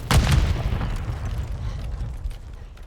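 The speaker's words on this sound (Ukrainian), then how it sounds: "Граната пошла." A grenade explodes in Warzone 2, a sharp loud boom at the start that rolls off into a long rumbling decay and fading debris noise, with no talk over it.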